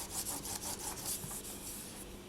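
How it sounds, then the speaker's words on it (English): A roller presses texture into polymer clay with soft, rhythmic rubbing and scraping strokes, close and quiet, repeating steadily without any talk. "So I'm just going to use my roller to do that."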